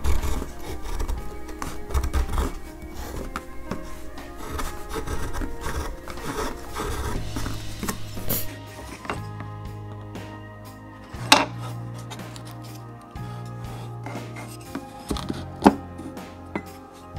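A hand-held Japanese woodcarving chisel shaves a piece of wood in repeated scraping and rubbing strokes, close and fairly loud, with a few sharper clicks and a low background hum, and no voices.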